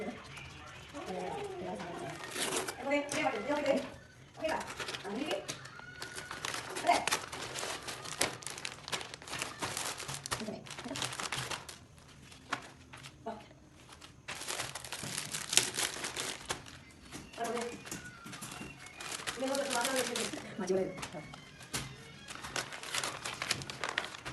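Crinkling and rustling of plastic packaging as a Firstcry children's dress parcel is opened, in irregular bursts with quieter pauses, close by, with a voice talking at times underneath.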